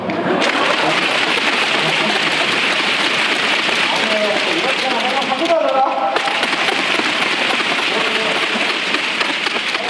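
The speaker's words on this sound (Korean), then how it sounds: "지금 비가 오니까" Rain falls at an outdoor stadium concert in Seoul, a steady broadband hiss under crowd voices and talk that runs nearly the whole time, briefly dipping around the middle.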